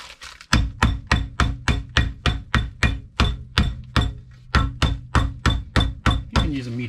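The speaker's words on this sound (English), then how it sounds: "Use a meat hammer for this too," A meat hammer pounds bread sealed in a nearly closed bag, about sixteen steady, loud, close thuds in an even rhythm with no talking.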